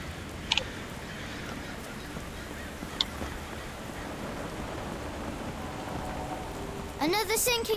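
Steady rain hiss in the Sherlock Holmes The Awakened video game, falling continuously throughout with a couple of brief sharp clicks early on and a warbling bird-like call near the end.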